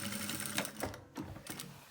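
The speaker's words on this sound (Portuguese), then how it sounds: "vai costurando devagarzinho" Sewing machine stitching slowly through a zippered toiletry bag with a built-in ring, a steady whirring chatter with brief pauses and restarts, close and alone.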